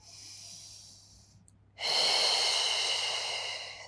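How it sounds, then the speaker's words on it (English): Deep, steady breathing during a Pilates hip mobility exercise: one softer breath trails off, then after a brief pause a louder, airy inhale-exhale swells up close and holds, with no talking. "2 more breaths."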